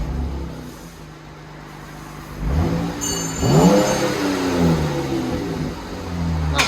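A 2015 Jeep Grand Cherokee Limited V6 on its stock exhaust revs up from idle, the engine climbing in pitch and then settling, loud and close.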